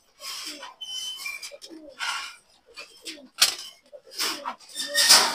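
White racer pigeons coo in repeated soft bursts close by, with occasional rustling between the calls.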